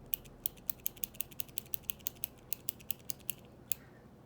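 Rotring 600 metal mechanical pencil lead advance mechanism clicking in a steady run of about twenty crisp, close, bright clicks at a quick, even rhythm, alone with no talk.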